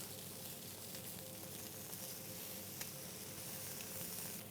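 Sea bass fillet sizzling in a pan after being flipped, a steady close frying hiss with faint crackles, gentle and continuous with no talk over it.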